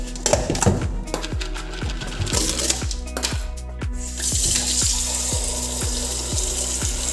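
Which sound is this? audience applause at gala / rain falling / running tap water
running tap water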